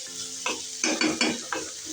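Onions and chilies fry in oil in a pan, a close sizzle punctuated by several quick stirring scrapes in an uneven rhythm.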